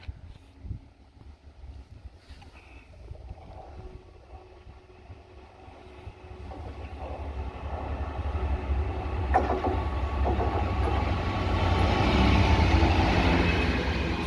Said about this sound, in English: I'll shut up now and let you enjoy this lovely Freightliner.